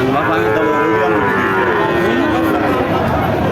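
A heifer calf moos loudly and close by at a cattle market, a long drawn-out lowing call that rises and falls over the busy background murmur of the market.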